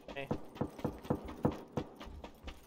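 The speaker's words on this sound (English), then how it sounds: "I hear footsteps on me." Footsteps in the PUBG battle royale game, a steady series of about nine evenly spaced thuds from a nearby character moving, faint and under squad chatter.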